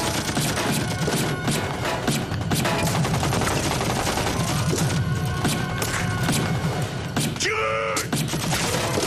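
Dense film gunfire, rapid bursts and volleys packed tightly together at high level for the whole stretch, with a brief tonal whine cutting through near the end.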